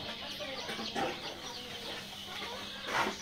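Chickens and young broiler chicks cluck and chirp steadily on a poultry farm, a dense, continuous flock chatter at moderate level with a couple of slightly louder bursts.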